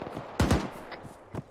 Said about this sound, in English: I hear the gunfire coming out south.